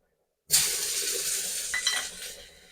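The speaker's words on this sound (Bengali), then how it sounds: "এবার কড়াইয়ে যে তেলটা আছে তেলের মধ্যে দিয়ে দেবো পেঁয়াজ কুচিটা" Chopped onion hits hot oil in a wok after a brief silence, bursting into a loud, sustained sizzle with a couple of faint utensil clinks as it fries.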